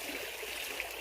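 Water is poured gently onto a plate of cooked rice being prepared as fish bait, producing a soft, continuous splashing trickle that is faint and steady, with no voices.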